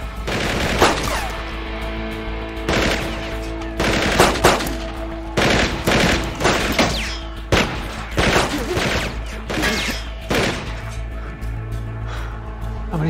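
Automatic gunfire from several shooters in an ambush aboard a ship, loud close bursts and single shots repeating irregularly, with brief gaps between volleys and faint voices underneath.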